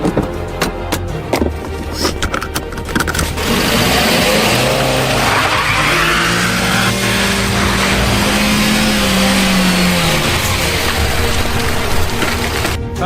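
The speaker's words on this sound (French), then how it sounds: "Pachka, accélère, dépêche-toi, Pachka." A car accelerates hard through a ghost-town street corner, its engine rising in pitch and tires squealing, loud and close, after a few seconds of sharp knocks and clatter at the start.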